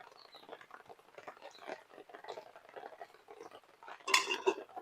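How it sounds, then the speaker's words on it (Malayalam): Cooked rice being stirred in a pan for lemon rice, with soft scraping and rustling of the spoon throughout and a louder metallic clatter toward the end. "നീ ഇട്ട ചോറ് ഞാൻ ഇളക്കാം."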